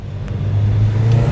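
A modded Subaru WRX/STI with a burble tune on E85-type fuel revs its engine, giving a low rumbling exhaust burble that swells steadily over a brief moment, close and loud with no talk.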